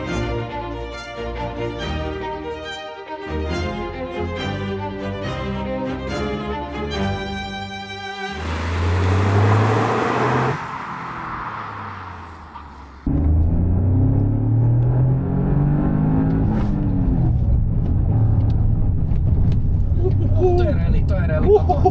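A Toyota GR Yaris rally car, a limited Kalle Rovanperä Edition, drives hard with engine tones rising and falling through gear changes, loud and close throughout, with people talking over it.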